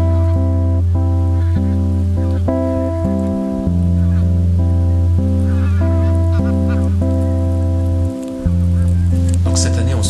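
Geese honk at Lac du Der in France in a loud, dense, unbroken chorus that fills the whole stretch, dipping briefly twice.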